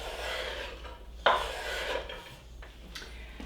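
Chopped beef fat drops into a pot on the stove with a soft thud and a rustle, followed by faint scraping and rubbing against the metal over a steady low background hum.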